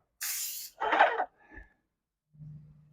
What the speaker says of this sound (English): spray a couple test patterns on here just to make sure that it looks right